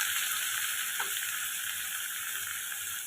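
Chopped tomatoes frying with browned onions in a pan give off a steady, close sizzle that stays even throughout, with a faint stir or tap near the middle.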